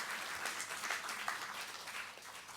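A church congregation at a Sunday worship service applauds together, producing a steady, dense patter of many hands, fairly soft and even throughout with no voices over it.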